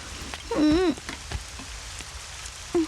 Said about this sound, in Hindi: अचानक इतनी बारिश कैसे हो गई यार?